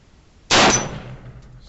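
A single sharp metallic clang rings out as a bullet strikes an orange steel plate at 50 yards at an outdoor range, a bright hit with a short fading ring, fairly faint and alone.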